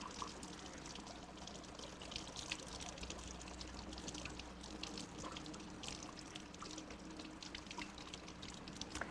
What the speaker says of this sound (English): turn my water on, just run a little bit of water on the edge there.